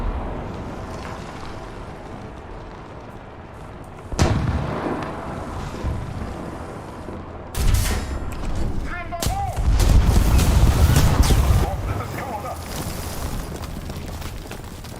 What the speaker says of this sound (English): I think that was artillery that landed on me